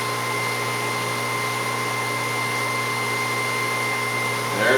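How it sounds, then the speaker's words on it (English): A steady, droning electric pump pushes homemade biodiesel into a fuel drum, a constant mechanical whine and hum holding level throughout, close and loud, with a brief rustle near the end. "We're going to fill it into our fuel drum."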